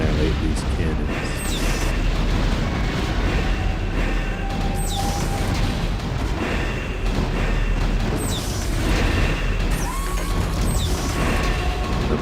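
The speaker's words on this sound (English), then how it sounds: "So here we go with the siege tanks." Heavy artillery booms and crashes from siege tanks in the real-time strategy game StarCraft, dense and continuous, layered over game music and effects and sitting under spoken commentary.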